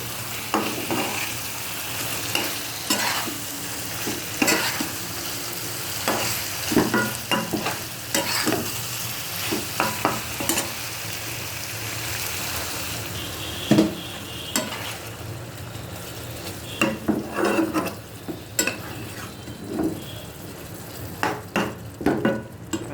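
Fish being stirred in a frying pan for a tomato and coriander fish bhuna, with a steady sizzle under repeated scraping and clacking of the spoon against the pan, close and fairly loud.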